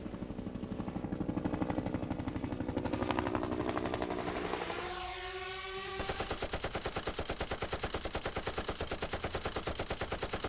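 Sustained automatic gunfire at a desert firing range during an India–Britain joint army exercise, rapid continuous bursts with a brief lull and a low rumble before the firing resumes, fairly distant.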